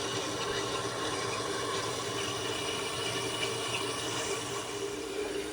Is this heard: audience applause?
no